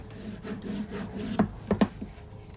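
Rubbing scrape of a card being burnished over a metal embossing die, a soft continuous friction with a few sharper knocks near the end, close and fairly quiet.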